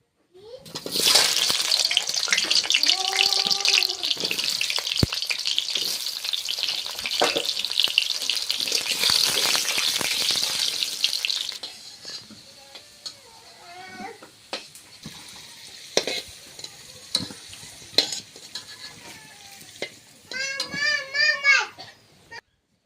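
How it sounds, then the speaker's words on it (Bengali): Hot oil frying loudly for village-style chicken curry, a dense close hiss for the first half that drops away, followed by quieter clatter and spoken voices. "ভেজে নেব তেলটা গরম হয়ে গেছে"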